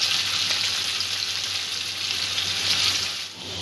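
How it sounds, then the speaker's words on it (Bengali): Rice is stir-fried in a little oil for prawn pulao, giving a steady close sizzle with faint scraping and stirring underneath, with no voices. "চালটা অল্প একটু তেলের মধ্যে নাড়াচাড়া করে নেব"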